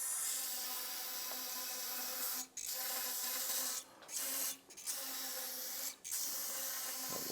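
A steady aerosol spray hisses onto a Honda CRF450 fork part held in a clamp, running in several long bursts broken by brief pauses, close and fairly quiet with no talking.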